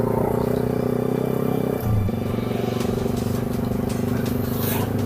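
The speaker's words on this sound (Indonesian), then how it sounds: "Ini anak muda sekarang naik motor kebut-kebut." A motorcycle engine drones loud and close on an Indonesian road, holding a steady low buzz with a brief dip midway, as if the bike is pushed hard by a speeding young rider.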